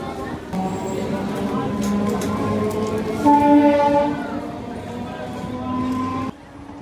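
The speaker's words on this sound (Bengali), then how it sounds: "পিছনে ট্রেনটা এখন ছেড়ে দেবে" A train pulls out of Kalna station with a loud, close rumble and a sustained horn blast near the middle, then the noise cuts off abruptly just before the end.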